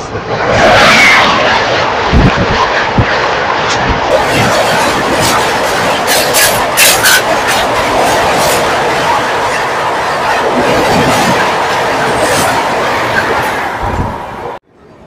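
The Duranto Express runs loud and close with a dense, steady roar and rattle, a few sharp clanks breaking through, before the sound cuts off abruptly at the end.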